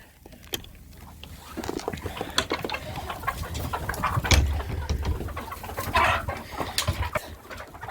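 Chickens cluck and murmur close by in a steady busy chorus, with scattered sharper calls and rustling throughout.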